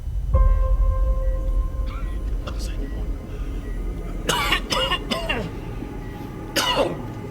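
Several harsh coughs in quick bursts, near and loud, with people talking around them.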